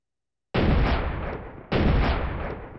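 An M1918 Browning Automatic Rifle fires in the World of Guns game: two loud, booming shots about a second apart, each with a long ringing tail, with no voices.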